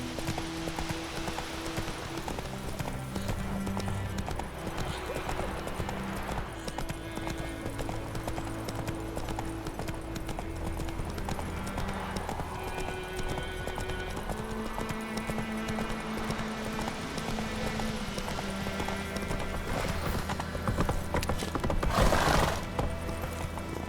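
Hooves of Geralt's horse Roach in The Witcher 3: Wild Hunt, a steady clip-clop rhythm running through a busy game mix of music and ambience, with a brief louder crash near the end.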